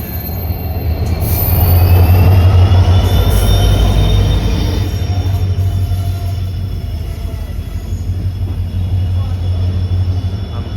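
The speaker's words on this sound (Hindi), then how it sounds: "ट्रेन आ गई है।" A train pulls into a station on a cold day, a loud sustained rumble of wheels on rails with high metallic squealing, rolling steadily and gradually easing as it arrives.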